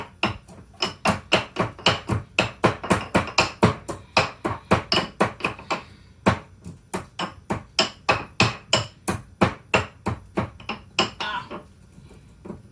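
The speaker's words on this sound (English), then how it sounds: "we're gonna try and grind the spices" Spices pounded for a nectarine cobbler, a rhythmic series of sharp hard knocks about three per second, close and clear with a brief pause midway, no talking.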